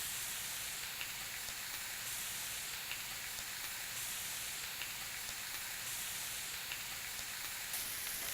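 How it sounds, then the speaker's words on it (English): Pork chops, thinly cut, browning in a hot pan give off a steady, even sizzle and hiss that runs unbroken for the whole stretch at moderate level, with no talking over it. "So you want to brown the pork chops for about 3 minutes per side."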